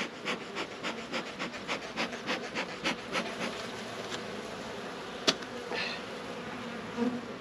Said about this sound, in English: This has definitely got more bees than I saw the last time.